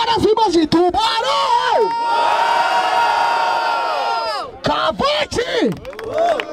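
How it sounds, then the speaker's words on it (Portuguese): A loud crowd at a freestyle rap battle in Barueri, São Paulo, cheers and shouts together for a few seconds, with excited voices yelling over each other before and after the roar. "Barulho para as rimas de Tubarão!"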